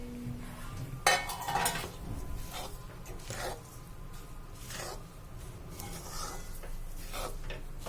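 A spoon scrapes and rubs steadily through a sesame-jaggery tilkut ladoo mixture in a bowl, with occasional louder knocks against the vessel.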